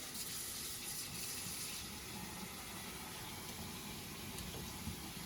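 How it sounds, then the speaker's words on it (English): Water runs from a kitchen tap down into a jammed garbage disposal, a faint, steady rushing and gushing that continues evenly throughout without interruption. "So run some water."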